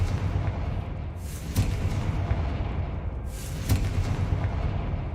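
Confringo fire spell cast in the Hogwarts Legacy video game, bursting as two loud booming blasts about two seconds apart over a continuous rumbling battle background.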